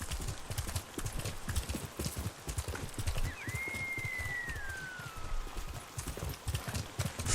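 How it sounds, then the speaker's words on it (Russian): Horse hooves clip-clop steadily in a video game, a brisk near rhythmic trot throughout, with a horse whinny rising and trailing off in the middle. "Славный конь."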